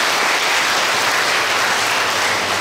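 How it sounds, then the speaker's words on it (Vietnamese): A large crowd at a Buddhist temple gathering breaks into loud, sustained applause, a dense, even roar of clapping with no voices. "Cho một tràng pháo tay."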